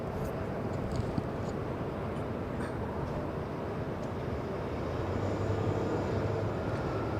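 Delta airliner lining up on the runway at Los Angeles International Airport, its jet engines a steady, distant whine and roar holding at moderate volume, with a faint low rumble building toward the end.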